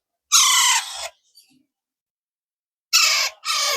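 Harsh, raspy squawking calls from Alexandrine parakeet chicks, two loud bursts close by separated by a pause of near silence.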